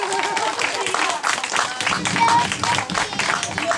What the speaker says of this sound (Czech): Veliký potlesk pro všechny paní učitelky z této školky.